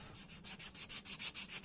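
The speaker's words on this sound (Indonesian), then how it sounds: "untuk proses amplas ini jangan lupa bagian yang di bevel juga harus ikut diamplas ya" Sandpaper rubs over a beveled leather edge in quick, regular back-and-forth strokes, about eight close scratchy passes, with no voices.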